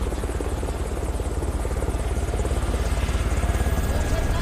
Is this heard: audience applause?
no